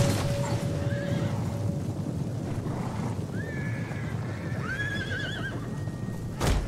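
Horses neigh and whinny in a Huns battle video game, two rising whinnies sounding over a steady rumble of galloping hooves and wind-like noise, with no talking.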